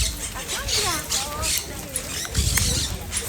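High, chirpy calls from nesting bird chicks in Park Güell, Barcelona, repeating in quick bursts over steady outdoor background noise, with people talking nearby.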